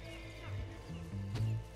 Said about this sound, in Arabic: الأحصنة دي بترفص ليه؟ مالها دي؟ خايفة